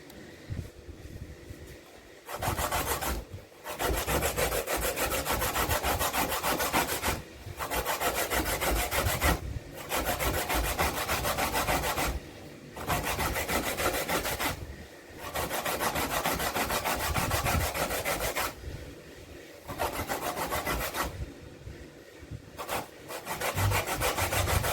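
Sweet potato is rubbed over a hand grater in repeated bursts of rough rasping scraping, each stroke run a few seconds long with short pauses between, close and alone.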